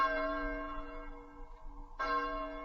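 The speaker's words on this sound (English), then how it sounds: "The passing bell is heard." A passing bell tolls twice, a ringing metallic strike that slowly decays before a second stroke lands. The sound is clear and resonant, with rich overtones and no talking.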